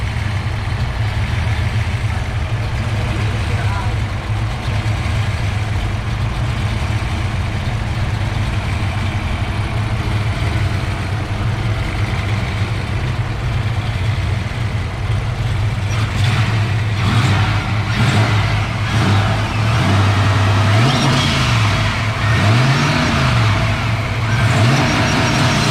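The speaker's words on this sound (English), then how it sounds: "both cars started pretty good" Two cars, one carbureted and one fuel-injected, idle loudly and steadily side by side, with engine revs swelling and dropping in the later part, no talk over them.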